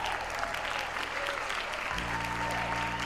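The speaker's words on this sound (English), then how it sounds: "Claps sound louder? They probably are a little louder." Dense, continuous clapping from a crowd fills the moment, steady and fairly loud throughout, with a low hum entering partway through.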